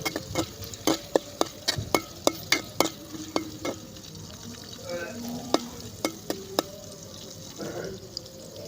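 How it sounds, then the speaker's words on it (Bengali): Chopped onions frying in hot oil for a Bangladeshi mola fish chorchori, a steady close sizzle broken by sharp spoon-on-pan clacks and stirring scrapes at irregular intervals, with no talk. "তেল গরম হয়ে এলে 2টি পেঁয়াজ কুচি দিয়ে কিছুক্ষণ ভেজে নিব"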